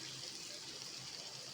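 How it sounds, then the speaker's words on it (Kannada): Water is poured into a pan of mixed masala for chicken tikka, a soft continuous splashing and trickling close by with no talking. "1/4 ಕಪ್ಪಷ್ಟು ನೀರು ಹಾಕ್ಕೊಳ್ಳೋಣ."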